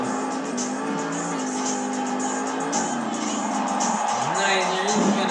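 Monster Mutt Dalmatian monster truck roaring and revving in a Monster Jam arena show in Greensboro, engine pitch climbing and dropping over steady crowd noise, with an announcer talking over it.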